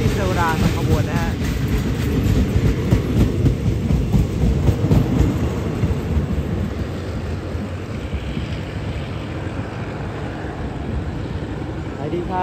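A locomotive-hauled train with trailing carriages passing through Salaya station on Thailand's southern line, a loud steady rumble with wheel clatter near the start that gradually eases, while people talk.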